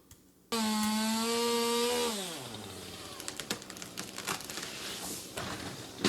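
A chainsaw roars loudly, its pitch dropping as it bogs into tree wood during trimming, followed by scattered cracks and snaps of breaking branches.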